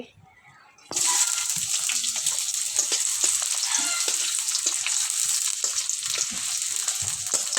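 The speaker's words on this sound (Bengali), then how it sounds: "তেলটা গরম হয়ে গেছে এখন দিয়ে দিব আমি পেঁয়াজ কুচি" Chopped onion dropped into hot mustard oil in a pan for chicken bhuna bursts from near silence into a loud, steady, crackling sizzle that carries on with small pops and stirring scrapes.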